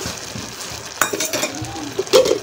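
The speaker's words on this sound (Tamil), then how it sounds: "இப்போ வெங்காயம் நல்லா வதங்கிருச்சு" Onions and curry leaves sauté in a pan for chow chow kootu, giving a close, steady sizzle broken by scraping stirs and a few louder clinks of a spoon against the pan.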